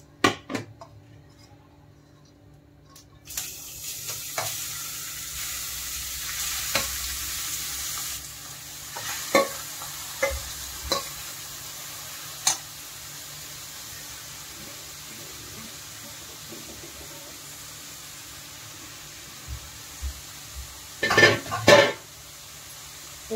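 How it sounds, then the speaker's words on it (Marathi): A kilo of grated carrots roasting in ghee for gajar halwa, a soft steady sizzle starting after a quiet moment, with occasional spoon scrapes and a few louder pan clatters near the end. "घी मध्ये आपण त्याला भाजून घेऊया"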